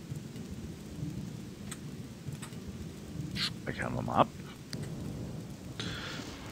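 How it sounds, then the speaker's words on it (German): Rain and thunder in the Odyssee game, a steady hiss of rainfall with low rolls of thunder and a few cracking bursts, while someone speaks briefly over it. "Es regnet wieder"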